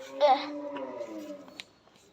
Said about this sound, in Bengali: খুবই সুন্দর গরুটা